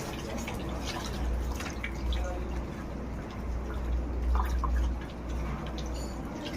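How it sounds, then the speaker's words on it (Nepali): Clean water splashes and drips over hands being rinsed, a soft steady trickle with low background hum, moderately close and faint. "सफा पानीले आफ्नो हात पखाल्नु पर्यो।"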